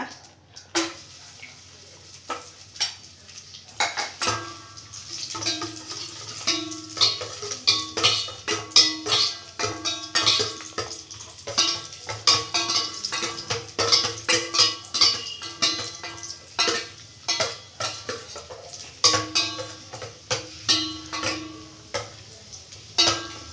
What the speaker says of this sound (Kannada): ಫಸ್ಟ್ ದ್ರಾಕ್ಷಿ ಗೋಡಂಬಿ ಹುರಿದೆತ್ತಿಟ್ಕೊಬಿಡೋಣ ಇದು ಮನೆಯಲ್ಲೇ ಕಾಯಿಸಿರೋ ತುಪ್ಪ